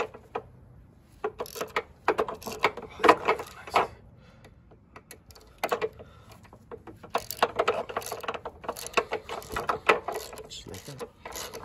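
Bolts are loosened on a 2018-2022 Honda Accord during pillow ball replacement, giving uneven bursts of close ratcheting clicks and metallic rattles with pauses between, and some talk now and then.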